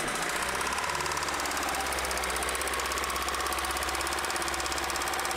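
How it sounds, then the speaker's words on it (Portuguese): A car engine runs loud and close with a harsh, knocking, rattling roar that stays constant throughout, no voices. "acelera aí para só ouvir o barulho do motor"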